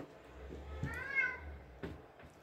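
A single soft meow, quiet and a little distant, with faint low background noise and a few small taps around it.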